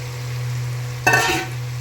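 Fried liver dropped into hot masala oil for a liver pickle and stirred, giving a sudden burst of crackling sizzle that fades within half a second over a steady low hum, with no talk.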